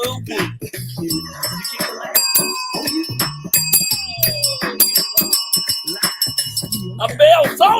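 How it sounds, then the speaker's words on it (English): Bell solo on a morning radio show, bright ringing tones with sustained overtones struck in quick succession, loud and up close, with voices briefly talking before and after. "A bell solo?"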